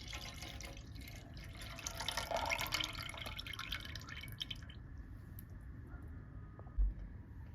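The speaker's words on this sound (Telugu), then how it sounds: "పాలు ఇందులో పోసేస్తున్నాను." Half a litre of milk poured into a steel container for setting curd, heard as a soft, faint pouring and dripping trickle that fades out partway through, ending with a small clink.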